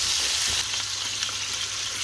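Canned peppers, onions and garlic sizzle steadily in a hot pan, a dense, close, continuous frying hiss with no voices.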